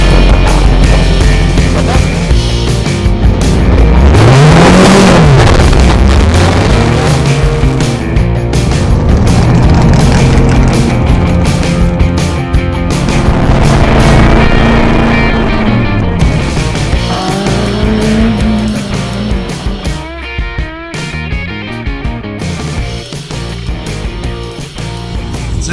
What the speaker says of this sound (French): Là j'ai les premières voitures qui arrivent.